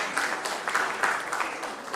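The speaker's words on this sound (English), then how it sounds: "A round of applause for them." Applause from attendees at an old students' association annual general meeting for two commissioners, soft and somewhat distant, a steady patter of clapping that rises and falls over two seconds.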